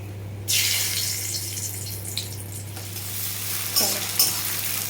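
Dry whole spices and bay leaves hit hot oil in a frying pan for a Bengali Jamai Shashthi dish. A loud, steady sizzle bursts in and continues over a low kitchen hum, with a few brief stirring scrapes.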